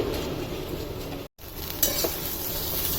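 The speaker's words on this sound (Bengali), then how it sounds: "এই যে সব দিয়ে দিচ্ছি এখন গুলে নেব কুমড়োর দিয়ে পকোড়া" Batter for pumpkin pakora being stirred and mixed by hand, a soft continuous wet churning with a light clink of utensil against the bowl partway through, close and fairly quiet, with no talking.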